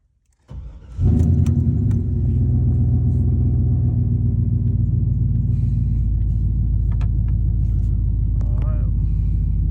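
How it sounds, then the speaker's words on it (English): A 2003 Chevy Silverado 6.0 V8 with a faulty throttle position sensor and throttle body cranks and starts, then settles into a steady, deep idle rumble close by, with faint voices briefly in the background. "Yeah, I hear the throttle body."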